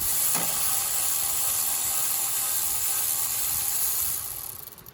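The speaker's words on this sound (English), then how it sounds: "if you get a running start like this and then put it on there, it'll break them loose" A ratchet works to break loose the water pump bolts on a Ford F-series truck, with one sharp click near the start and then a steady close mechanical hiss that fades out at the end.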